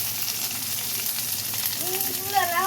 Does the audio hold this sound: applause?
no